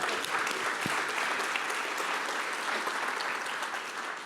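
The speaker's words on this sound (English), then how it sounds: "Give yourselves a round of applause" A keynote audience at a summit applauds steadily as a dense, even wash of clapping that holds for several seconds and tapers slightly at the end.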